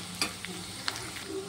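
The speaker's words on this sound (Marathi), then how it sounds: "अद्रक घालायचे आहे, अद्रक सुद्धा परतवून घ्यायचं आहे छान असं" Garlic and ginger sauté in a pan for a homemade Schezwan chutney. The soft, steady sizzle is broken by a few brief scraping stirs, with no voices.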